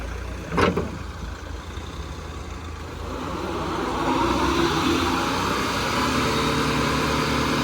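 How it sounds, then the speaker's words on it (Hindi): Off-road vehicle engine running steadily while recovering a car stuck in mud, a broad continuous rumble that swells louder partway through, with a brief sharp transient near the start. "दक्ष भाई की गाड़ी फंस गई है, तो हम लोग निकाल रहे हैं।"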